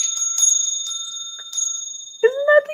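A tiny bell rung for grounding gives several bright, clear rings that shimmer and decay over a quiet background, then a short burst of voice briefly cuts in near the end.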